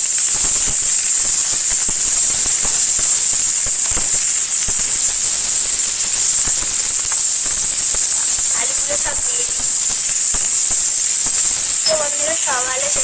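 Cut potatoes hit hot oil, setting off a loud, continuous hiss of frying that barely changes from start to finish. Faint voice tones surface briefly near the end.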